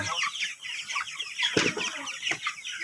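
Many chickens on a farm, raised 45 days for harvest, clucking and squawking together in a busy, continuous chorus, with occasional louder bursts from nearby birds.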